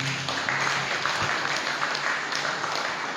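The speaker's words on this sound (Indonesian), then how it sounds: "Kita beri sambutan dan tepuk tangan aplaus untuk Gus" An audience at the closing of an art exhibition claps for Gus Alamuddin, a dense, steady round of applause that sustains evenly throughout without breaks.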